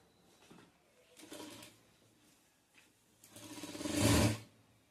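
A sewing machine stitches a plazo pant seam, running in short bursts that build to a louder, sustained run near the end, close by with no talk.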